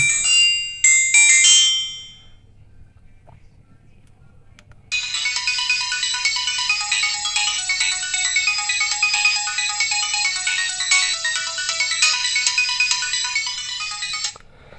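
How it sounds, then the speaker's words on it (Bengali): Ringtone from a Symphony S75 keypad phone, a loud electronic melody that plays continuously for about ten seconds after a brief chirp and a pause. "আমরা একটু চেক করব যে ফোনের রিংটোনটা সাউন্ড কেমন ছিল"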